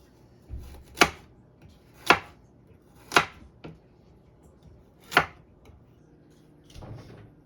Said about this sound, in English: Now we are slicing the carrots to put into the soup.